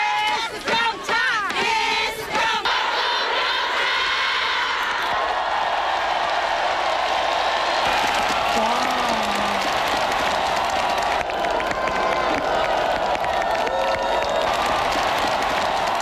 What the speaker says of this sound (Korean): 하늘 울리는 외침, 환호